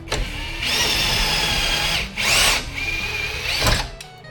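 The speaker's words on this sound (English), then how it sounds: "pull while you use your drill to pull the bolt out" A power drill whines loudly in several bursts while pulling out a bolt during a Ram 1500 front strut install, its pitch steady then rising briefly, with short pauses between runs and no talking.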